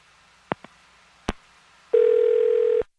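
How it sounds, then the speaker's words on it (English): A telephone dialing sequence: a few sharp clicks and beeps as the number is entered, followed by a loud, steady single-pitched tone held for about a second before cutting off. "I'm going to dial her phone number right now."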